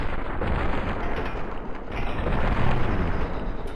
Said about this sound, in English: It was a grenade.